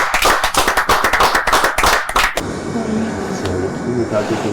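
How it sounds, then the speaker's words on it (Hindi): An audience on the reality show Tamasha Season 4 claps in a dense, loud burst of rapid hand claps for about two seconds. The clapping then cuts off, leaving only a low room hum. "तालियां बजा सारे ओमी और ज़ैनब के लिए"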